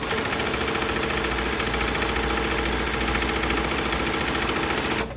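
A sewing machine stitches the lining fabric for the base of a tulip bag, running as one steady, close mechanical whir with a fine rhythmic pulse for about five seconds before it stops at the very end.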